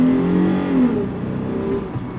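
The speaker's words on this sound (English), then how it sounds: "So you do have a buzzier V6, a louder V6." Toyota 4Runner V6 engine from a 2023 model pulling under throttle, a buzzy, fairly loud drone rising in pitch with transmission shifts, steady and close from inside the cabin.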